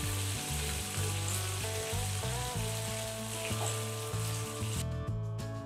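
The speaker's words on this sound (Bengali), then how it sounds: "ফ্রাইং প্যানে চিংড়ি মাছ ভাজার জন্য সর্ষের তেল নিয়ে নিচ্ছি। তেল ভালো মতো গরম হয়ে এসেছে, এবার এক এক করে মাছগুলো দিয়ে দিচ্ছি।" Prawns sizzle and spit in hot mustard oil in a frying pan, a loud, continuous crackling fry, close up, with faint stirring clinks.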